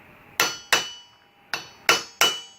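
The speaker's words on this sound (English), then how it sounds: "take this 13/16 socket and try to hammer this cap down just a little bit." Five sharp, ringing metal strikes in an uneven rhythm as a hammer drives a 13/16 socket down onto a U-joint cap on a Jeep Cherokee, backed by a piece of railroad iron. The strikes are close, loud and isolated.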